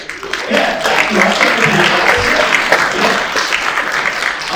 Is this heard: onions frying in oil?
no